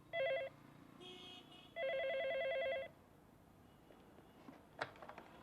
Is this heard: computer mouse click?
no